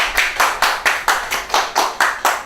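Rhythmic unison clapping from a graduation audience for a student's CSEC exam results, about nine evenly spaced loud claps in a steady beat with no voices over them.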